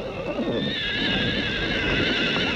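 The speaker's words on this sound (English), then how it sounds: "Mongolian and his horse are inseparable" A horse in Mongolia gives a loud, drawn-out neigh that wavers over several seconds, with hooves clip-clopping underneath, close by and without voices.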